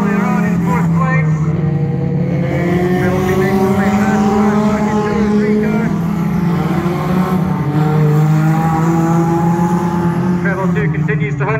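Banger racing cars at Crimond in Scotland roar around the track, a loud continuous engine drone with shifting rising and falling pitch bands, heard under steady commentary throughout.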